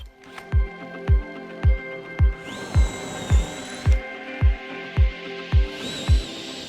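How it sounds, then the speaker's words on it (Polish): A power drill with an 8 mm bit whirs steadily while a sharp rhythmic knocking repeats about once every second, with a rising whine as the bit bores into a wooden countertop. "wiertło Fi 8 i nawiercamy mniej więcej do połowy grubości naszego blatu"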